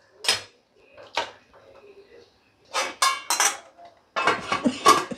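Metal cookware clatters in a kitchen as a lid goes onto a pot of fish curry with eggplant, a few separate clanks and scrapes with quiet gaps between them, close by.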